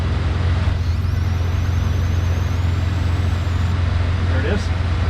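An Aerostar 700 aircraft engine runs just after starting at idle: a loud, steady low drone with a thin whine above it, while a muffled voice comes through.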